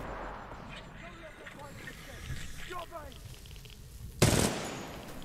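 A gun fires in the video game Titanfall 2, with one sharp, loud shot cracking near the end after a stretch of quieter game noise.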